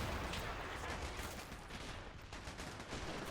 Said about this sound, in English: We have a German sniper over here just opening up at the British attackers.